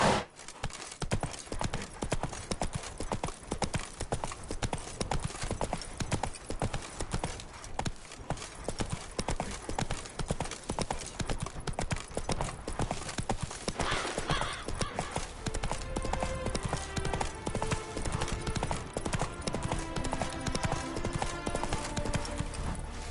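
Roach the horse galloping in The Witcher 3 on PS5, with dense, fast hoofbeats pounding continuously and loud, game music rising underneath near the end.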